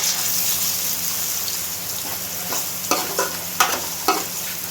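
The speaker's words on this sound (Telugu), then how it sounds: "ఇప్పుడు కాస్త అల్లం, అలానే పసుపు వేసి మిక్స్ చేద్దాం" Ginger and turmeric stirred into golden brown onions frying for a chicken fry, a steady close sizzle with a few sharp scraping stirs near the end.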